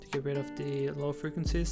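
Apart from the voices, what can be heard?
No distinct noise like a dog, phone or traffic.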